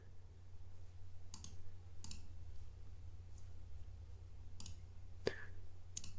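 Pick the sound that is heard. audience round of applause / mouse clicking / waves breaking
mouse clicking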